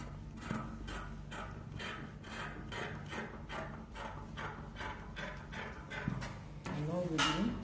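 Fabric being cut along the back armhole of an A-line gown pattern with scissors, a rhythmic run of crisp snipping strokes up close, with a brief rustle and a voice toward the end.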